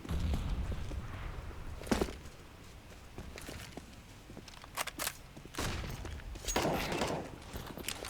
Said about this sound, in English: Very nice headshot onto Hadji.